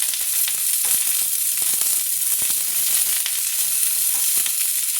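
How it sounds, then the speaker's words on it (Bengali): Green peas, eggplant, beans and potato fry in a pan with a constant, dense sizzle and hiss, steady and close, with a few small pops and stirring scrapes scattered through. "আমি 2-4টে কড়াইশুঁটি দিয়ে দিলাম, দিয়ে এবার এটা ভাজা ভাজা করে নিচ্ছি"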